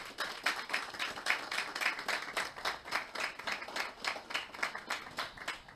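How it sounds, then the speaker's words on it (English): A small audience gives Dr. Kaba a round of applause at a talk, sparse and rhythmic clapping with distinct individual claps pulsing steadily, fairly faint, with no speech over it. "Everybody give him a round of applause."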